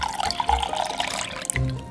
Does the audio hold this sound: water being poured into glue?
yes